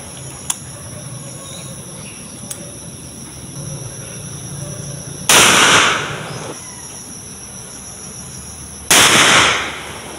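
Two loud sharp gunshots from old ammunition being test-fired at a firing range, each blast ringing out and decaying, spaced a few seconds apart over a quiet outdoor background.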